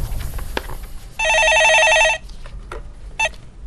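A telephone rings once in a loud electronic burst as a caller phones in to a Korean stock-market call-in show. Faint clicks and studio sounds come before and after it.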